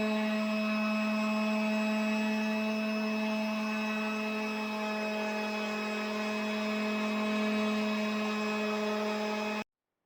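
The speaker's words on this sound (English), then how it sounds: "I used the 180 grit sandpaper to smoothen it" Steady, loud motor whine of a power sander smoothing wood with 180 grit sandpaper on a DIY workbench build, running continuously for about ten seconds before cutting off abruptly.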